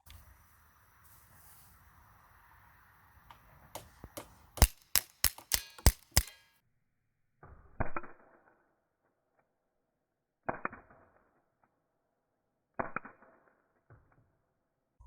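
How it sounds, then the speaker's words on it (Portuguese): Steel BBs fired from a CO2 pistol with open sights at a target disc 10 m away: a rapid string of about seven sharp cracks, then three or four spaced single shots, each followed by a faint distant impact, no talking. "foi possível colocar vários disparos muito próximos uns dos outros, isso utilizando a mira aberta a 10 metros"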